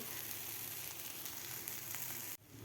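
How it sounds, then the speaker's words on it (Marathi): An egg omelette fries in a pan, its underside browning: a steady, close, dense sizzle runs without a break, then cuts off abruptly near the end. "खालची बाजूसुद्धा आपल्याला दोन मिनिट फ्राय करून घ्यायची आहे व्यवस्थित शेकून घ्यायची आहे"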